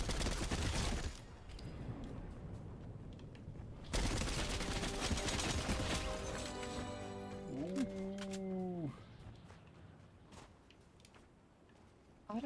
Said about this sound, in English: Auto shotgun.